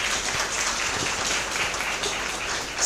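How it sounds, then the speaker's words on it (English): Applause at a business school inauguration, a soft, diffuse spatter of clapping from a crowd, fairly distant and even, with a slight swell at the very end. "Give a big round of applause."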